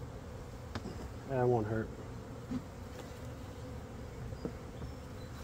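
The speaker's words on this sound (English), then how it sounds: "There's a lot of bees in there." Honeybees buzz around an open hive as a faint, steady insect hum, with a brief burst of nearby buzzing and a few quiet spoken words over it.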